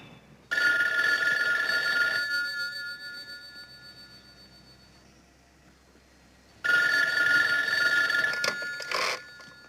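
A telephone in a 1975 detective drama rings in two long bursts of bright electric bell, the first running about two seconds and fading away, the second coming back loud several seconds later; nobody speaks.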